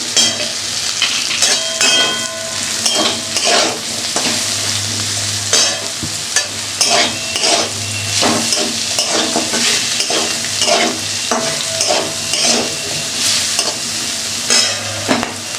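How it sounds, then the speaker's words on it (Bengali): Vegetables and rice stir-fry in a pan, with a steady loud sizzle under repeated scraping and stirring strokes that continue without a break and with no talking. "আমি ভাতটা এইভাবে সবজি দিয়ে ভাজা করে দিচ্ছি"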